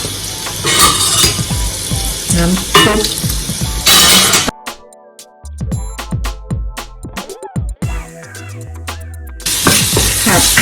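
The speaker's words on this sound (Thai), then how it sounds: "ใส่ลงไปเลยแล้วก็ผัดหน่อไม้ฝรั่งต่อนะคะ" Asparagus stir-fries in a pan with a bright sizzle, sharp clinks of metal utensils and scraping against the pan, and short quieter gaps between bursts.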